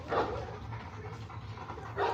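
A Boerboel dog pants softly and steadily nearby, with quick breaths in a faint, quiet rhythm.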